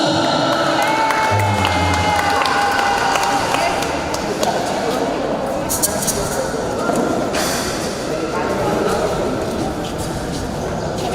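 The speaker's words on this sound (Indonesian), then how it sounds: "Tepuk tangan untuk wilayah Lima." An audience at a non-electric music performance for an HKBP Makassar church festival cheers and applauds the Wilayah Lima music team, a loud, sustained crowd roar with clapping and an announcer's voice over it.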